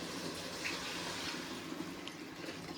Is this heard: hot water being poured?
yes